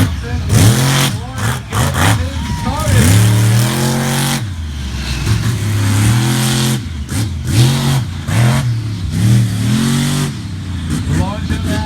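A monster truck, Iron Warrior, revs loud and close through a round of freestyle at an outdoor show, its engine rising and falling in repeated surges with continuous commentary over it.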